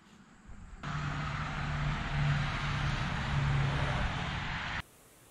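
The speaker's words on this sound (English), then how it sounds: "it's the noise of the highway" A steady, broad roar of nearby highway traffic that starts abruptly, holds at an even level for several seconds, then cuts off.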